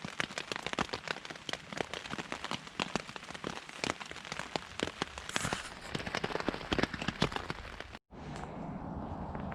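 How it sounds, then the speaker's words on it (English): Rain patters on a tent at night in autumn woodland, a dense, close drumming of drops with irregular louder splats, briefly cut off near the end before a softer hiss of rain continues. "laying in the tent now, listening to the rain"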